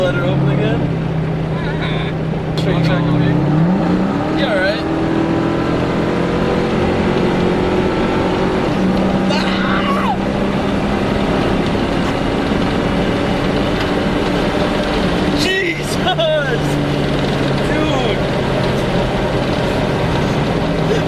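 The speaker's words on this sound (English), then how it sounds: "Is that downshift?" A Ford Mustang engine roars continuously at high speed, its pitch dropping and rising through a downshift, heard from inside the car with people talking over the drone.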